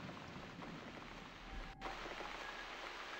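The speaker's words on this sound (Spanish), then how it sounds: "Sí, es la lluvia, sí." Rain falling in the horror adventure game The Cat Lady, a steady low hiss of drops on surfaces with a faint rumble underneath and a brief dip midway, quiet and unbroken by speech.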